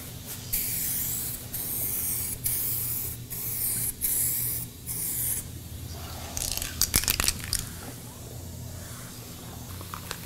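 A 2K aerosol clear coat is sprayed onto a car in a string of close, hissing bursts of varied length, with short pauses between passes and no voices.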